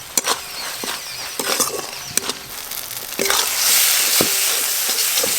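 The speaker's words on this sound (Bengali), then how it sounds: "মশলা বেশ ভালো করে কষে নিয়েছি।" Ground spices with green and dried chilli paste, turmeric and salt sautéing in a pan, a steady sizzle broken by repeated stirring clacks and scrapes of a spatula, growing louder and denser toward the end.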